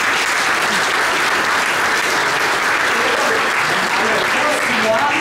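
Loud, continuous audience applause for council members at a press conference for a holiday lights event, with voices mixed into the dense clapping throughout.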